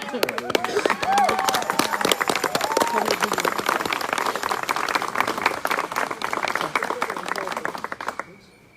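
A crowd at an evening coronation court cheers and applauds steadily. Dense clapping is mixed with shouted voices and rises and falls for several seconds before fading out near the end.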